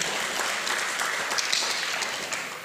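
Congregation cheering and clapping at a church worship service, a steady, dense wash of applause and voices holding at an even level throughout.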